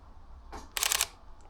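A camera shutter firing while photographing birds outdoors, one click followed by a rapid burst of several crisp shutter clicks close to the microphone, then a faint final click over quiet background hum.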